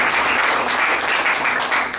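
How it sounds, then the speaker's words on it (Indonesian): Dense, steady applause from a church congregation during a sermon, loud and continuous throughout with no pauses. "yang mau berikan tepuk tangan buat Tuhan"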